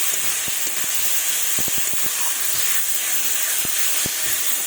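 Spice paste of dried red chilli, ginger, cumin and coriander being sautéed with rohu fish pieces for a brinjal-tomato curry, giving a steady loud hissing sizzle with scattered sharp spatters and clicks of stirring.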